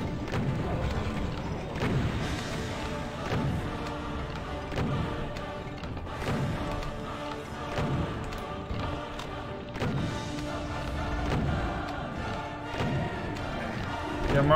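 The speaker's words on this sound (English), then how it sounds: "Random explosions." Explosions from bombs going off at random in a 2007 Doom mod, heard as repeated dull thuds and booms scattered over a dense, continuous bed of game sound and music.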